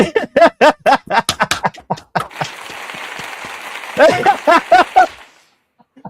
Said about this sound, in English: Cheeto, hit me with that applause button.